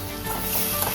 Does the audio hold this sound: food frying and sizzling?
yes